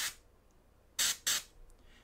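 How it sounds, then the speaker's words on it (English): Airbrush spraying a thinned glaze over a painted surface, several short hissing bursts, close and sharp, with a brief puff at the start followed by two quick sprays in a row. "I'm gonna spray it on here again to cover up a little bit of those highlights"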